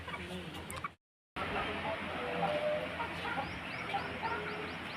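Aseel roosters and hens cluck and call faintly in a farmyard, soft bird sounds scattered over steady outdoor noise after a brief silence, with muffled voices in the background.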